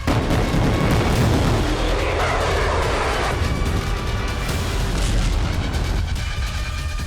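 Bombing and artillery fire in Syria make a continuous loud, rumbling roar with dense low-frequency booms blending into a wall of noise, distant and sustained without clear separate blasts.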